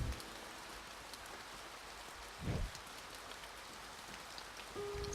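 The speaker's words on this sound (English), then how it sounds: "I fear no rain." Steady rain pours down in the video game A Bird Story, a dense hiss that fills the whole stretch at moderate level, with a brief louder swell midway and a low tone entering near the end; no voices.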